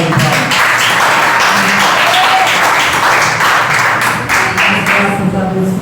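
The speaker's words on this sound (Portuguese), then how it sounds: "Vamos receber ela com a salva de palmas." A church congregation breaks into sustained, loud applause, dense clapping filling the space throughout with a few voices mixed in.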